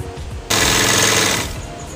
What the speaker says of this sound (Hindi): अब हमने यहाँ पे फिर हमने अंदर की सिलाई लगा लेंगे।